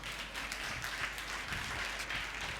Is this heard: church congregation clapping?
yes